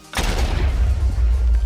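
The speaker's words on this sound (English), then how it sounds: "No damage from the creeper explosion" A Minecraft creeper explosion blasts out in a match between North American and European teams, one sudden loud boom followed by a long rumbling roar that holds steady to the end.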